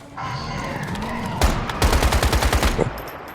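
Rapid gunfire in the survival shooter game Once Human, starting with a single heavy shot and then a burst of about a dozen evenly spaced, loud, close shots in quick succession over a steady game backdrop.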